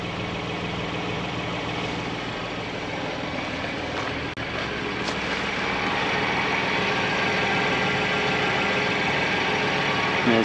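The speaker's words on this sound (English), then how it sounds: "Hear it burbling away, that lovely exhaust." BMW M2 Competition manual F87 with M Performance upgrades idling, its exhaust burbling steadily and fairly loud throughout with a deep low rumble and no talk.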